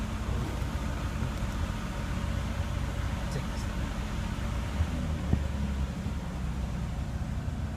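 A 1988 Nissan 300ZX engine idles high with the throttle held open, a steady low rumble with fan-like broadband hiss running continuously and close.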